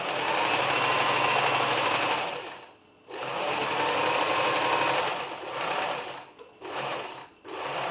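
A sewing machine stitches a seam with a fast, even mechanical whir, running in long bursts that pause briefly and restart several times, close and loud with no talking.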